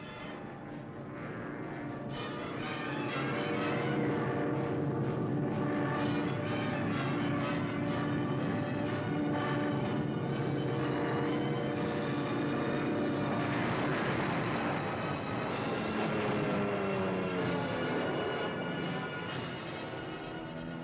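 World War II aircraft engines in a North African campaign documentary, a loud sustained droning roar with wavering pitch that swells in and holds steady throughout.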